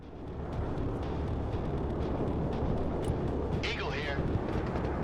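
Cluster bombs dropped by a Strike Eagle during a bombing run in a real-time strategy game explode as a dense, sustained rumble of overlapping booms, loud and continuous, with a voice talking over much of it.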